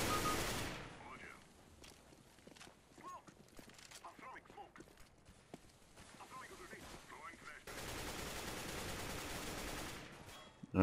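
Sustained automatic gunfire sprays a wall in Counter-Strike: Global Offensive, a dense rattling burst near the start and another heavy stretch late, with scattered shots and footsteps between and a voice talking throughout.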